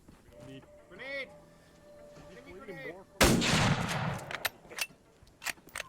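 A grenade explodes with a sudden loud blast during a bolt-action firefight in Arma 3, set in the First Indochina War, followed by several sharp gunshots. A voice speaks just before the explosion.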